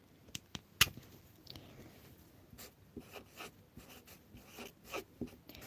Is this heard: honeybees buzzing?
no